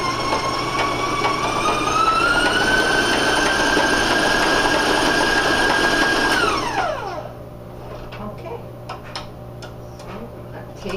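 Stand mixer with a paddle beating brown sugar shortbread cookie dough as the rest of the flour goes in, a loud steady whirring motor that winds down and stops partway, followed by quieter handling noises.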